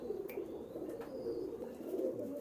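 Pigeons, including white golden pigeons, coo softly in a low, continuous murmur, faint and steady, with a brief chirp or two above it.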